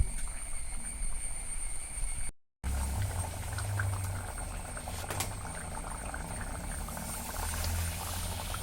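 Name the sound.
taro stem theeyal curry boiling and thickening in pot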